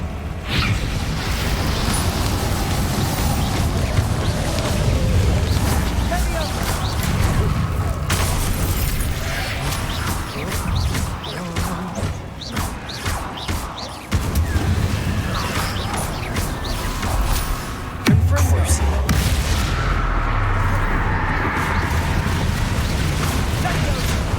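Confringo blasting-spell explosions in Hogwarts Legacy, loud booms and crashes over a continuous clattering, rumbling game soundscape, with a few sharp bursts and occasional voices.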